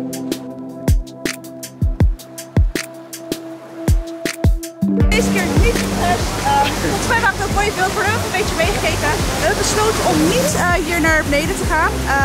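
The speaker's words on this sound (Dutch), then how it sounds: "we zijn aangekomen bij de waterval" A waterfall roars as a steady, loud broadband rush, coming in after a stretch of clicks and knocks and continuing under voices talking.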